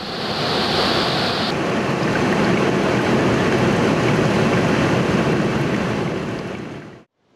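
A Himalayan river in the Annapurna region rushes with a loud, steady roar of water that runs unbroken for about seven seconds before cutting off abruptly.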